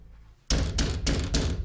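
Heavy fists pound on a locked door in four loud, evenly spaced bursts, each a booming thud that rings out close and fills the space.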